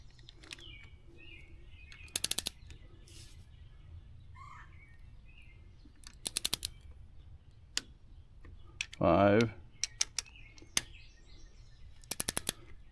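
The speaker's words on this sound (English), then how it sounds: "I'm going to torque the rest of these at 5" Torque wrench tightening cylinder head bolts on a leaking, overheating engine, giving brief bursts of rapid clicks several times over, with a short louder ratcheting stretch in between, against a quiet shop background.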